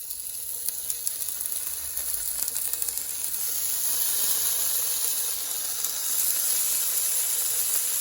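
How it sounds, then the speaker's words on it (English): Bacon slices sizzle in a preheated skillet, a steady bright hiss with crackling pops that swells louder partway through, close up and with no voices. "now I'm just going to add in a few slices of bacon"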